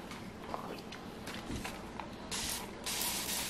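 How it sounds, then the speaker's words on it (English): A spray can hisses onto the side of a drawer during a fabric decoupage furniture makeover, in two close, sharp bursts at the end that follow quieter handling sounds. "Gonna spray it first."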